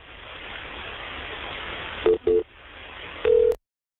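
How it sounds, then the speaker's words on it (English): A telephone call is dialed over a steady hiss of line noise: two short keypad tones in quick succession, then a pause and a longer tone before the line abruptly cuts to silence. No one speaks. "at least pick up the phone and make the call"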